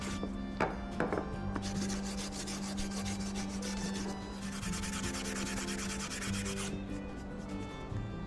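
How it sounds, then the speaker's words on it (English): Continuous scratchy sanding on the wooden joints of a midcentury chair, steady back-and-forth rubbing strokes close up, with a low hum underneath throughout. "sanding the joints so that the chair can be reassembled"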